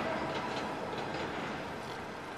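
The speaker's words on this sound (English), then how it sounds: "Oh, the train went by?" A train passes by in Fort Lauderdale, a steady, fairly faint rushing and rumbling wash of wheels and cars that holds evenly for a couple of seconds, with no voices.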